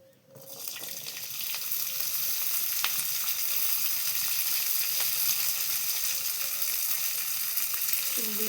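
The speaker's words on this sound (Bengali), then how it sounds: "শিমগুলোকে পুরো একদম ভেজে নেব লাল লাল করে।" Flat beans hit hot oil in a wok, and the sizzle quickly rises to a loud, steady frying hiss with scattered spatters and stirring clicks.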